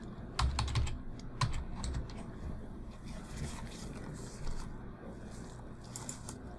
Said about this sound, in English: type in the physical address